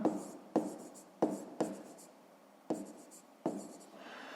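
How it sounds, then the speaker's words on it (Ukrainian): Pen strokes on paper marking an asterisk for a fifth-grade maths exercise: six short, sharp scratchy strokes at an uneven pace, close and fairly faint, with no voices. "Пишемо зірочку."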